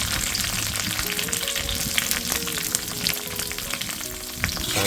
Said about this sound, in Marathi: कांदा मस्त परतून घेऊया